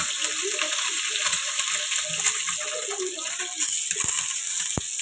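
Halved boiled eggs frying in hot oil for Marathi-style egg bhaji, a loud continuous sizzle with crackling pops and occasional scraping as pieces are turned, with a voice talking over it.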